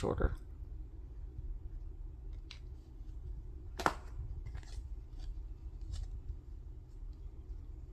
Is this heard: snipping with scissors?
yes